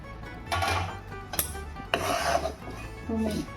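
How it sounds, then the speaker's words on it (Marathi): Green chillies being stirred into cooled spice masala in a pot for green chilli pickle, heard as a few scraping, rubbing bursts of a spoon against the metal vessel with short pauses between strokes. "याच्यात आपण ह्या सर्व मिरच्या आहे ना टाकून घेऊन एकजीव करून घेऊ"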